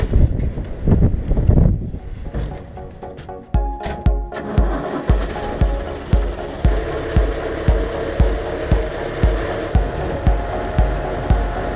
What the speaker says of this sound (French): Et il y a un vent à décorner les bœufs.